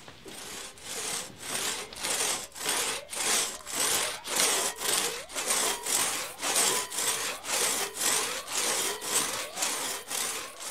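Hand saw cutting wood outdoors in a forest, with steady back-and-forth strokes in an even rhythm, about a dozen strokes close by, loud and alone with no talking.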